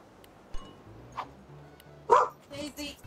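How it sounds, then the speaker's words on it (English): A pet dog barks in the background of a home game stream, giving a few short barks mixed with quieter household noises and some voice, fairly faint rather than close. "Sorry for the barking in the background."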